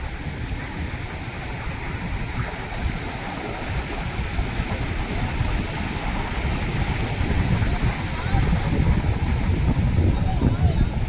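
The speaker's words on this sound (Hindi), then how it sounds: "गजब की लहरें आ रही हैं।" Sea waves surge and wash onto an island shore in a continuous loud roar that builds toward the end, with wind noise on the microphone.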